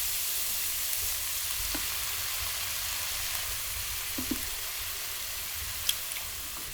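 Minced garlic and soy sauce sizzle in cooking oil in a pan, a steady, fairly quiet frying hiss with a few faint clicks and no voices.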